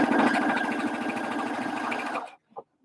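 A sewing machine stitches fast and steadily at close range for about two seconds, working on a bucket hat, then stops abruptly and leaves a couple of brief soft clicks.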